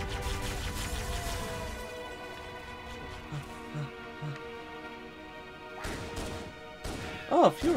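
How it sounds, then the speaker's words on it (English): Halo fuel rod cannon fire in the Master Chief Collection: loud crashing, whacking impacts and bursts over a dense game soundscape with music, including a final heavy blast. "fuel rod cannon."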